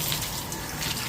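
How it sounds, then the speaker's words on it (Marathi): Water runs steadily from a tap, filling a container for worship, loud and close with no voices over the rushing flow. "देवाचं पाणी भर देव पूजेसाठी."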